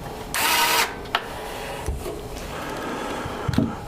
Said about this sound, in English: Be sure to screw all 4 screws in.